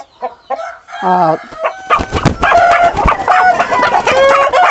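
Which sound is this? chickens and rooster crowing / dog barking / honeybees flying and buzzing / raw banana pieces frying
chickens and rooster crowing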